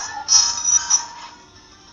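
A telephone ringing at the grandparents' house, a bright electronic ring that trills twice in quick bursts near the start and fades, heard alone with no talk.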